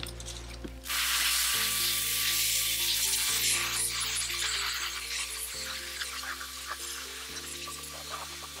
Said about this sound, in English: But for now, I'm going to rinse it off.